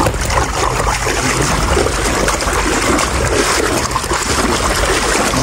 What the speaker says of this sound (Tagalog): Grabe po yung baha dito mga kalingap kaibigan.